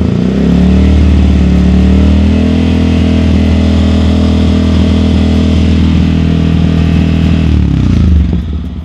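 A Yamaha MT15 fitted with a Replica Pro power pipe exhaust with resonator revs steadily at around 4,500 RPM, a loud, sustained engine drone held close for about eight seconds before dropping off at the end.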